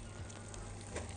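Onion hits a pan of frying golden vermicelli, giving a dense, continuous sizzle with a low crackling hiss, close and steady throughout.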